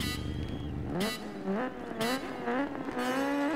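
A superbike in TT Isle of Man: Ride on the Edge 3 revs hard on the start line near Douglas with the clutch held, engine note rising and falling in repeated sharp blips, loud and close.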